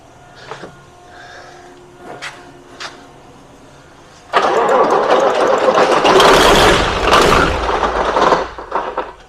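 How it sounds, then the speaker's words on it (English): A Leopard C1 tank's large diesel engine cranks and roars to life after a few quiet mechanical clicks, then settles into a loud, steady, rumbling idle. "we're going to flip over to the other side of the engine now. We'll get it going."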